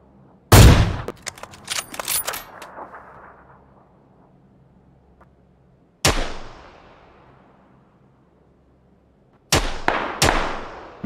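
Sharp, loud video game gunshots crack out with echoing tails: a burst of several shots, a lone shot later, then two more close together.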